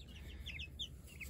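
Buff chickens near a DIY coop give soft, brief clucks and chirpy calls, a few scattered notes over a low background rumble, faint and close.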